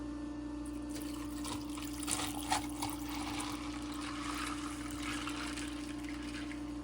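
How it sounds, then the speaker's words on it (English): Cherry chai and milk poured over ice, a steady liquid trickle and splash with faint clinks, close and fairly quiet over a low constant hum. "Cup of chai, cup of milk. And then we just put it over ice."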